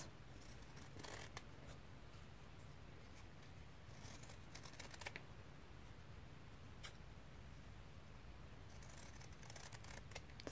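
Scissors snip through fused quilt fabric in a quiet room, a few faint crisp cuts spaced out over steady low background hiss, with no one talking.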